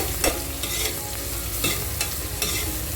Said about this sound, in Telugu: చూడండి, చక్కగా వేగాయి ఉల్లిపాయలు.